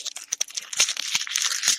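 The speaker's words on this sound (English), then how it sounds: "was a tinfoil covered chocolate egg being opened and enjoyed" A tinfoil-wrapped chocolate egg is unwrapped close to the mic, giving a continuous bright crinkling and tearing of foil with small crunchy snaps for about two seconds.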